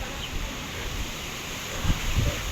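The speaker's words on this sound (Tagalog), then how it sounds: "malakas yung hangin" Steady wind blows across an outdoor scene with faint rustling and a few low gusts thumping the microphone, fairly quiet overall.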